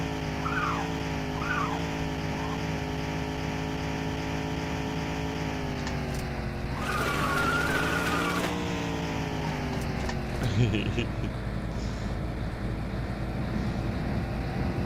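A car driving in The Long Drive, with a steady engine drone throughout and a loud screeching tire skid in the middle, then the engine hum carrying on alone.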